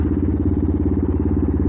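A Benelli TNT 125 single-cylinder motorcycle with an aftermarket exhaust putters close by in a steady, rapid low thumping pulse, loud and alone.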